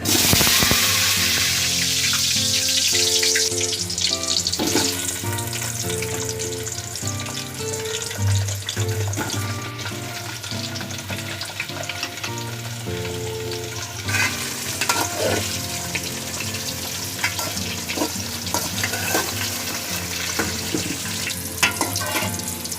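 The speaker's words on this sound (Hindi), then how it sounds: "आलू भाजीदेवा।" Potatoes fry in hot oil in a pan, giving a loud, continuous sizzle and crackle that stays close and steady throughout, with occasional stirring and no voices.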